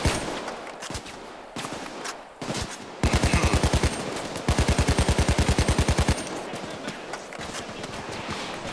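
Rapid police gunfire in the shooter game PayDay 2, with dense automatic bursts of evenly spaced shots crackling loud and close, interspersed with scattered single shots and chaotic action noise, no talking heard.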